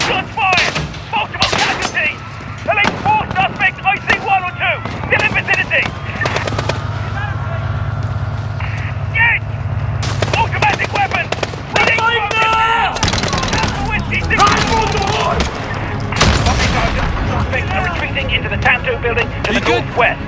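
Bursts of rapid gunfire crackle and stutter in close succession in the Piccadilly mission of Call of Duty: Modern Warfare (2019), mixed with shouting police voices and sharp electronic game sounds.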